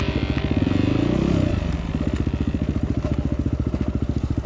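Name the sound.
trail motorcycle riding down a steep forest incline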